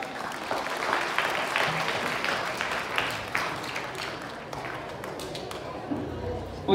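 A college audience at a Children's Day program applauds a BSc final-year student performer with brisk, crowded clapping that gradually thins and fades toward the end, with some voices mixed in.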